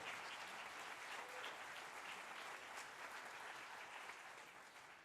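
Steady, even applause from a high school jazz band concert audience, saluting an alto saxophonist and a trumpeter, fairly faint, with no one speaking.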